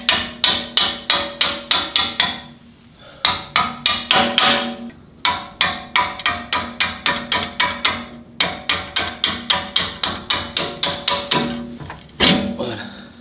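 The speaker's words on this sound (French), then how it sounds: "Après on met toujours l'écrou avant de taper dessus, toujours." Rapid metal hammer blows strike a car's shock absorber foot to free it, the nut kept on the thread, in bursts of quick, loud, evenly spaced impacts with short pauses between runs.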